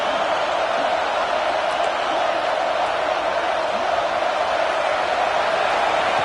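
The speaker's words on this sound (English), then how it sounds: "It's early, but this crowd is fired up. Listen to this noise here." Fired-up stadium crowd in the College Football video game, a steady loud roar of many voices with scattered whoops, continuous and unbroken throughout.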